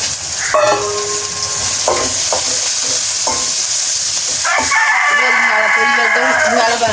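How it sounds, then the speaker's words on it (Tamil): Salted eggplant pieces fry in a pan, a steady sizzle with stirring clatter in short bursts, growing denser in the second half; no talk. "இனி கத்தரிக்காய்க்கு லைட்டாக உப்பு போட்டுட்டு பொரிக்கணும்"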